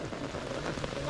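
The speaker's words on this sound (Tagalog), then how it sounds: "umuulan na naman" Rain pours steadily onto surfaces outdoors, a dense close patter of drops forming an even, unbroken hiss for a brief moment.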